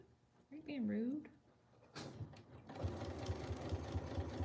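A sewing machine stitching a corset dress starts up after a brief voice and some handling knocks, then runs with a quick steady pulsing whir, close and moderately loud.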